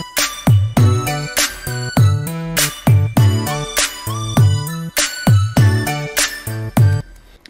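A full electronic mix built around a small, basic synth plays a repeating bouncy riff with steady drum hits and a pulsing bass pattern, loud and close, looping twice in a regular rhythm with no speech.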